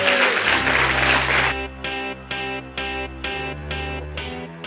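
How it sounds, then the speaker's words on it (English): An audience at a business talk claps in a dense burst at first, which then breaks into a few evenly spaced, sharp hits near the microphone that sound like clapping or a beat. "I'd like to give you a huge, huge round of applause for Tony McCarthy, the Irish marketer."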